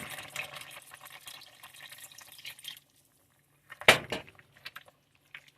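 Water poured into a pan of sausage pasta gives a soft, continuous trickle and splash for a few seconds, then a brief clatter and splash after a pause.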